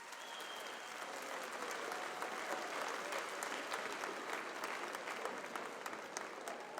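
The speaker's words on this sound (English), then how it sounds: "Please join me in a round of applause for them" A graduation ceremony crowd at McGavock High School applauds in a large hall, a dense, even wash of many hands clapping at a distance, sustained without a break.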